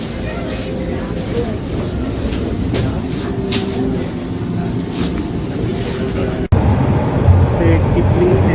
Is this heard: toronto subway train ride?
yes